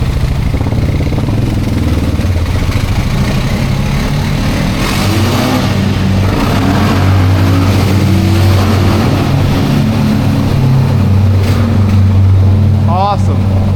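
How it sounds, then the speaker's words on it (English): A Rubicon 700 engine drones steadily with a low, continuous rumble while driving into a tunnel, the sound dense and close throughout with a brief clatter near the end. "The engine braking on this Rubicon 700 is pretty good with the gear reduction."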